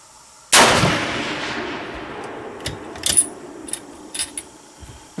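A deer rifle fires one loud, sharp shot outdoors that booms and rolls away in a long echo, followed by a few faint metallic clinks and taps.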